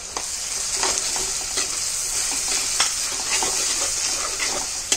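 Ground coconut paste sautéing in a pan for a Kerala fish curry gives a continuous close sizzle, with spatula scrapes and stirring strokes at intervals and no one talking.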